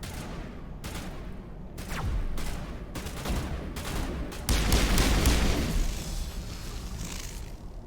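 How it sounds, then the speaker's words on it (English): Grenade explosions and bursts of gunfire in the video game Mass Effect, a steady barrage of shots and heavy blasts with a loud eruption midway. "Oh, a lot of grenades."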